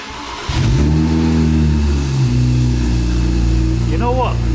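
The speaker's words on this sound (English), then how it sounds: "We're gonna do a cold start because we don't want to get suffocated with N54 exhaust fumes" A BMW 335i with the N54 engine and a newly fitted exhaust cold-starts loudly up close, catching with a sharp rev that settles into a deep, rumbling idle, with brief talk near the end.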